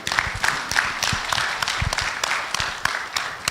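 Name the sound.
audience applause for Karatina University group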